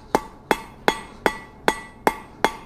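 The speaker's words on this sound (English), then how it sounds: "slowly hammering to try and make that" A hammer strikes hot metal being forged into a camping fork, seven evenly spaced ringing blows about a third of a second apart, close and clear with no talking.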